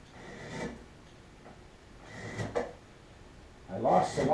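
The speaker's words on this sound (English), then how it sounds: "I'm going to pare right down to the line" A blade pares wood from a log down to a marked line while building a log cabin, giving several short scraping, rasping strokes at irregular intervals, fairly faint and close.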